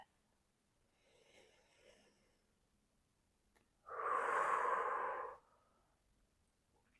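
Slow yoga breathing during a moon salutation flow: a faint inhale early on, then a long, breathy exhale of about a second and a half, close and alone in a quiet room.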